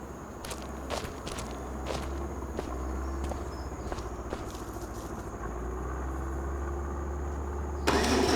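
A tractor engine idles and rumbles steadily up close in Farming Simulator 25, a continuous low drone with scattered clicks and thumps on top and a brighter burst near the end.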